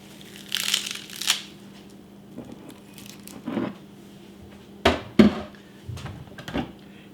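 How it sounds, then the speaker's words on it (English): Cleaned fresh cilantro stalks being snapped and crushed by hand in a kitchen, a series of close crisp crunching and crinkling bursts spaced irregularly across the stretch, with quiet pauses between. "Now I'm just going to break the stalks off."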